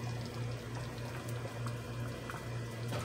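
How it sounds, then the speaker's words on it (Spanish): Water boils in a pot on a kitchen stove, a steady close bubbling and hissing roll with low burbles, continuous throughout with no talk. "Y ya lo vamos a dejar que hierva para que esté listo."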